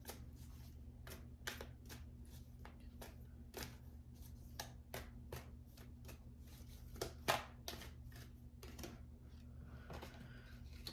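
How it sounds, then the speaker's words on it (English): Tarot cards being shuffled by hand in a quiet room, a steady series of crisp riffling flicks and snaps at close range, with a faint steady hum underneath and no talking. "Hold on, I'm gonna shuffle again."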